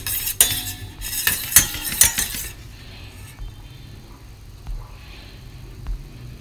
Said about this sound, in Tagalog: Mix lang natin para maghalo silang mabuti.